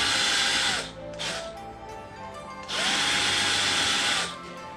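Power drill boring small pilot holes in wood in a woodworking setting, two sustained whining bursts with a short pause between, close and clear with no talking.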